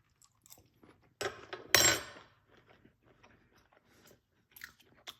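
Someone takes a bite of wood-fired steak cooked on a live-fire grill, giving a few sharp, close crunches and soft chewing sounds separated by quiet gaps, with no talking.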